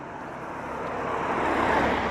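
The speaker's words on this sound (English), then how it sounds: "particularly as cars go past like they are about to right now" Traffic on a busy road in wind, a broad rushing roar that swells gradually as a car approaches and passes close by, loud and continuous without talk.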